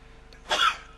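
A commentator in a broadcast booth at a Magic: The Gathering Pro Tour event gives a single short, sharp sneeze, close and fairly loud, with no talking.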